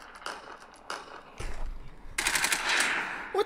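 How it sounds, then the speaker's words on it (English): Bursts of gunfire outside, rapid and loud like a machine gun, arriving in separate volleys that build into a sustained, dense crackle toward the end, with no talking. "I hear gunfire outside."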